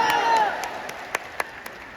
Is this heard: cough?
no